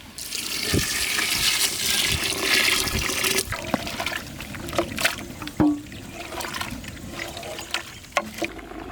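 Water pours steadily into a cooking pot with dal and vegetables for sambar, a broad rushing hiss for several seconds, then drops to intermittent splashes and trickles, close by with no talking.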